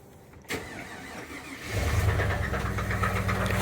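A car with an LS V8 engine cranks and catches, then settles into a steady, deep idling rumble close by.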